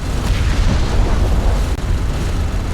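An armored vehicle exploding in Deserts of Kharak gives a loud, close, rumbling blast that fills the moment with dense low roar.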